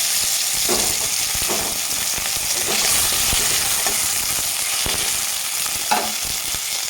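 Potatoes fry and get stirred in a pan for a Bengali banana flower dish, giving a steady, close sizzle with scraping stirs throughout and no voices.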